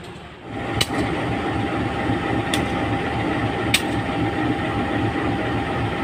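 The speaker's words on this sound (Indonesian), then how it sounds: "Kereta api Logawa dengan tujuan akhir stasiun Sumpiuh." Inside the economy-class Logawa passenger train bound for Sumpiuh, a steady loud rumble of wheels and carriage plays throughout, punctuated by three sharp clicks from the track.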